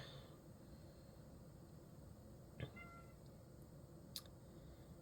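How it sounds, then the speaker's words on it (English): A house cat in a quiet indoor room gives two brief, faint meows, one around the middle and a shorter one near the end, over a low steady background hiss. "And that would be my cat Zelda, and she says hello."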